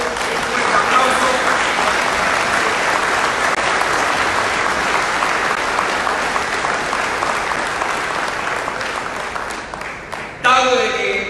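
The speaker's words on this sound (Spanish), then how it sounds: "para el cual pido un fuerte aplauso." A construction workers' union audience applauds Genaro López at an anniversary ceremony and board swearing-in, a dense, loud, steady clapping that fills the room for about ten seconds before tapering off into a brief burst of other noise.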